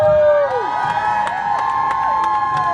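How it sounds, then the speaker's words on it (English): A crowd at a lumberjack show during the Puyallup Spring Fair roars and cheers in a loud, sustained wash of voices, with sharp whoops and shouts rising above it. "the louder you cheer, the faster they go"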